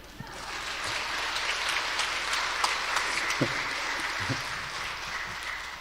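Steady applause from a church congregation during a Korean revival service, a continuous moderate wash of clapping with a few louder thumps and faint background voices.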